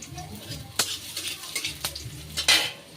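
Finely minced garlic fries in hot mustard oil in a wok, a continuous close sizzle punctuated by a few sharp utensil scrapes and clinks against the metal, with no talking.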